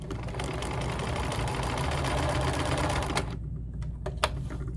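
Sewing machine quilting along the edge of a fabric strip, its steady motor hum and rapid stitching running continuously for about three seconds before stopping, followed by a few faint clicks.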